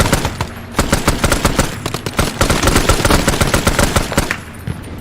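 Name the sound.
gunfire in a Vietnam War video game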